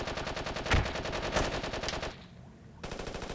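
Rapid automatic machine gun bursts in the military shooter game Squad, loud and continuous with sharp shot peaks, briefly dropping into a quieter lull before the firing resumes.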